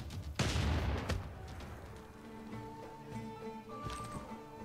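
City attack in Civilization VI, a burst of game gunfire and booming impacts up front followed by sustained musical tones of the game soundtrack, moderate level, no talking.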